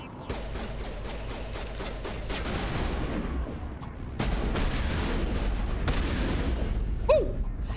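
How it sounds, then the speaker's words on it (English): Shotgun blasts in the Mass Effect video game, several sharp reports spread across the clip amid continuous combat noise, fairly close and moderately loud with no talk. "shotgun's interesting, but you have to get so close for it to be of any value"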